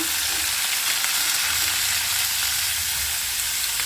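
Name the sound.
vegetable peel frying in oil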